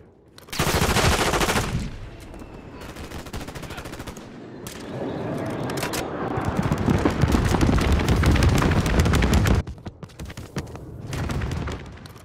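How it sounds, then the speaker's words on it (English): A close air bombing run and heavy gunfire in the Modern Warfare video game: loud rapid bursts of automatic fire and booming explosions rolling almost continuously, with a brief lull near the end before more shots. "Requesting close air. This is Vulture 6-1. Bombing run is inbound. Danger close."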